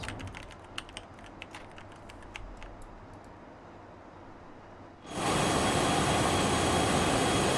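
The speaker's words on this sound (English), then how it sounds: "I just mash the keys" Computer keyboard keys are mashed in scattered quick clicks over a low hum, then stop. Soon after, a loud steady broadband rush abruptly takes over and continues to the end.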